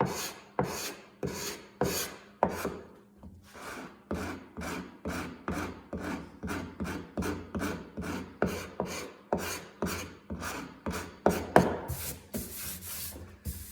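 Wood is sanded by hand with 220 grit sandpaper over a spot left by an earlier chisel hit, heard as close rhythmic rasping strokes repeated steadily for over a dozen passes with brief pauses and no talking.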